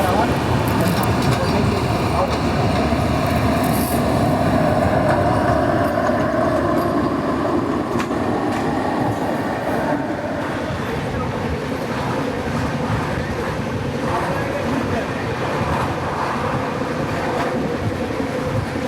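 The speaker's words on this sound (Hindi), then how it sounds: "और यहाँ पे वंदे भारत एक्सप्रेस शंट हो रही है।" A Vande Bharat Express train shunting nearby, a loud continuous rumble of rail cars and wheels that eases slightly midway, with voices mixed in.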